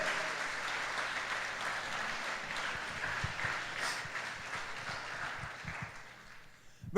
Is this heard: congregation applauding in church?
yes